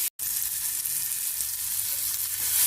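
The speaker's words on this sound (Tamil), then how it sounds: "நெக்ஸ்ட் ஒரு தக்காளி, அதையும் போட்டு நல்லா வதக்கிடுங்க" A tomato sautés in a pan with a continuous close sizzle. A brief gap breaks it near the start, then it runs on evenly without talk.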